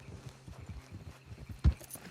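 Horse hooves clip-clop in Red Dead Redemption 2, a steady trotting rhythm close by, ending with one louder thud near the end.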